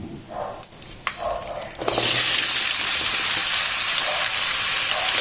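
Raw mango pieces drop into hot oil already seasoned with five-spice and dried red chillies, setting off a sudden loud, hissing sizzle that continues steadily after a few clinks and stirring sounds.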